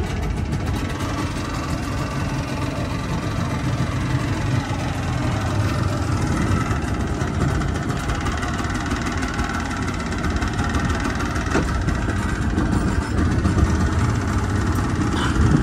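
A steady, droning engine runs continuously at an even level, a low mechanical rumble of a boat motor underway to Coron, Palawan, Philippines, with no talk.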